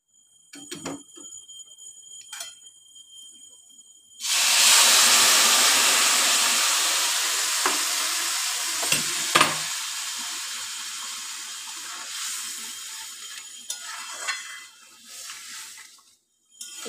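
Hot water poured into a pot of bhuna khichuri on low heat sets off a sudden loud steamy hiss that slowly fades, after a few faint clinks. Scattered small ticks and taps follow as it settles into a simmer.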